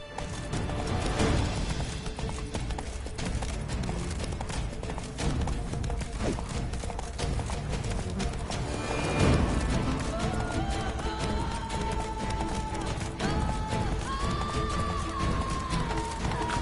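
Roach, the horse in The Witcher 3, gallops at a steady rhythmic pace, hooves pounding continuously and close, mixed with game ambience and a brief louder crash midway.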